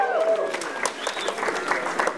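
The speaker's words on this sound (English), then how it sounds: "Round of applause for Poland again," Audience applause for Poland at the Fossil of the Day Awards during the COP17 climate talks in Durban: a dense, steady burst of many hands clapping, fairly close and lively throughout, with a faint murmur of voices mixed in.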